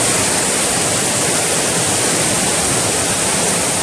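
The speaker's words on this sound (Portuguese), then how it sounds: "e as águas passando aí a todo vapor" Water rushes strongly through a large irrigation canal fed from the Jati dam, a loud, continuous, dense roar that fills the whole clip without pause.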